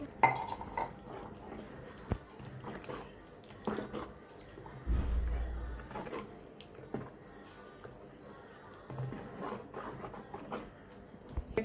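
A spoon mixes rava dosa batter with raw onion and green chilli in a bowl, giving repeated clinks and soft scraping against the bowl in uneven bursts, close and fairly quiet.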